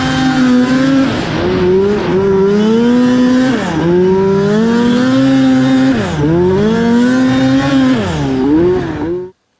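A turbocharged two-stroke modified hill-climb snowmobile engine revs hard and close, its pitch rising and falling in repeated surges over nearly ten seconds before cutting off abruptly.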